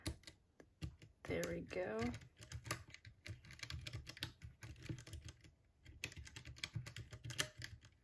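Clacky typing on a keyboard with its keycaps removed, in quick irregular bursts of keystrokes, close and fairly loud, with a person talking briefly.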